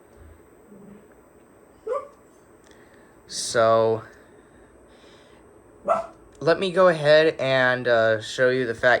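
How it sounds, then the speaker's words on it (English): A dog barks in the background, with one short yelp followed by a louder bark and then a few quick whimpering barks. Someone speaks nearby over part of it, in a room with a high-pressure sodium lamp. "Sorry about the dog in the background."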